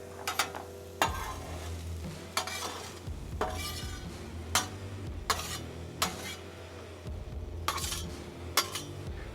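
Russet potatoes sizzle on a Wildfire outdoor griddle as a metal spatula scrapes and clinks against the hot surface, pushing them aside in repeated strokes over a steady, soft frying hiss.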